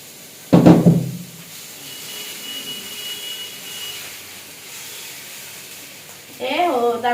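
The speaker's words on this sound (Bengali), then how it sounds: "ভেজে নিই আগে।" Dosa batter hits a hot pan with a loud hiss that fades into a low, steady sizzle, then a voice comes in near the end.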